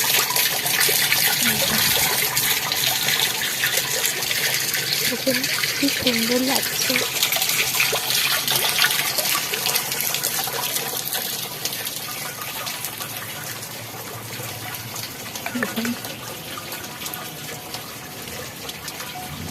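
Water spills from a drum set up like a fountain among garden plants after rain, a steady broadband rush running throughout and easing slightly partway, with a voice talking over it.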